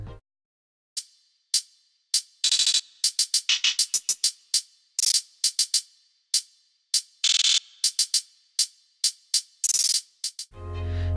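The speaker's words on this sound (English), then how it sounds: "So our hi-hat pattern will sound like this." Programmed hi-hat pattern for a trap beat made in Logic Pro X: crisp, bright ticks in an irregular rhythm with fast rolls and short bursts, loud and alone, with a low thump near the end.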